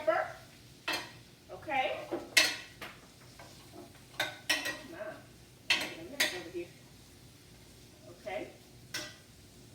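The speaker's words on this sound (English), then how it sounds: "I'm going to toss them one time in the olive oil and the butter, like so, and I've added black pepper." Vegetables tossed in a pan of olive oil and butter with black pepper, giving scattered clinks, scrapes and soft sizzle bursts close by, while a voice speaks briefly between them.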